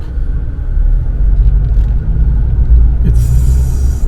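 Steady low road rumble of heavy traffic near Chapala, Mexico, heard from inside a vehicle, a continuous loud drone with a brief hiss swelling near the end.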